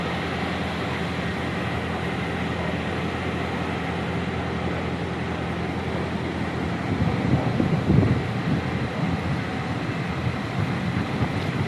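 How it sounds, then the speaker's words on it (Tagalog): Wind blowing outdoors in a cool open field with papaya plants, a steady broadband rush buffeting the microphone close and loud, swelling in a stronger gust near the middle, with no talk. "Sarap ng hangin."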